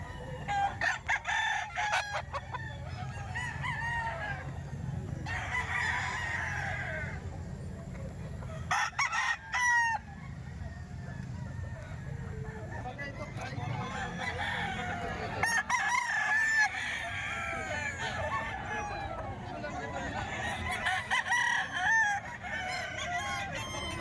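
Two spangle-patterned roosters, one with a strip comb, crow several times at a farm sale, their loud, drawn-out calls rising over low background noise and faint voices.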